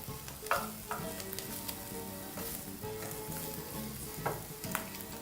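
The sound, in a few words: bacon frying and crisping in a pan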